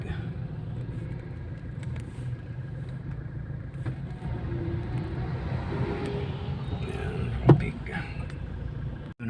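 Road traffic in a Philippine morning drive heard from inside a moving car, a low engine rumble with passing vehicles and a brief sharp knock near the end, while someone talks over it.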